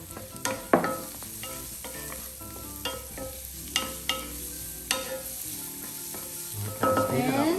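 Onion sizzles in hot oil for goat curry while a utensil stirs and scrapes the pan in repeated close knocks, the frying hiss steady underneath.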